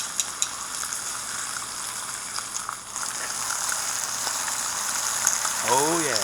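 Wild hog bacon frying in a pan gives a steady, close crackling sizzle throughout, with a few sharper pops near the start.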